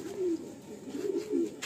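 Pigeons of a fancy breed coo in soft, low rolling phrases close by, repeating several times over a quiet background.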